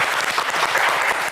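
Studio audience applause for contestants on the French TV game show Le Coffre Magic, a dense, steady wash of many hands clapping close and loud with no talk over it.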